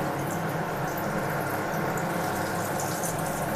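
Potato pakoras fry in hot white oil with a dense, loud, continuous bubbling sizzle close by, steady throughout with no talking.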